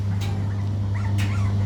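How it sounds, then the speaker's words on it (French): Young tricolour puppies give short yips and whimpering barks close by over a constant low hum, with no talking. "Ah oui, ça commence à aboyer maintenant."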